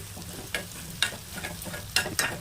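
Gongura leaves, tamarind and turmeric being stirred in a pan: a low simmering sizzle broken by several scraping spatula strokes at an uneven rhythm, close and moderately loud, no voices.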